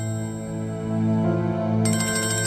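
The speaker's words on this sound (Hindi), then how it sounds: "किसका फोन है?" A mobile phone ringtone plays loudly and steadily indoors as a sustained melodic ring with no one talking over it.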